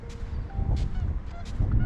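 Whooper swans honking in flight over the coast at Castlerock, several loud bugling calls repeating about every second and a half, fairly close, with steady wind noise underneath.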